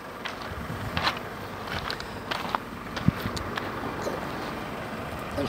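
Honey bees cluster at a hive entrance in cold, rainy weather, giving a faint, steady buzzing hum with scattered soft rustles and no talking.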